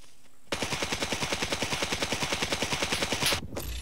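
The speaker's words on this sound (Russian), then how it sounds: "у него, походу, пулемет не заканчивается. Патроны, слышал, да?" A machine gun in the video game Scum fires one sustained, rapid burst of evenly spaced, loud shots for about three seconds, then stops abruptly.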